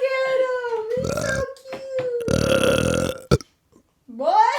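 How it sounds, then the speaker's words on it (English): A big, drawn-out burp rumbles loud and close, followed by a second shorter burst, with a baby's babbling and cooing voice around it. "That was a big burp, bro."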